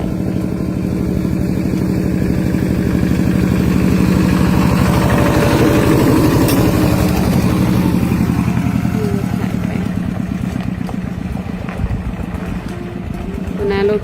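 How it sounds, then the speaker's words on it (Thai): Tractor engine idling close by, a loud steady chugging throb throughout, with people talking over it. "คือรถไถ"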